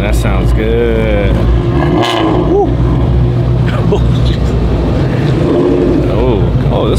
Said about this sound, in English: Oh, what is making that sound? Oh, it's probably the Mustang.